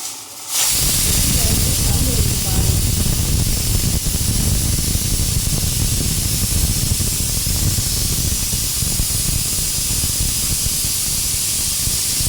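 A pressure cooker cooking pongal vents steam in a loud, continuous hiss that starts abruptly and holds steady for over ten seconds, close and alone.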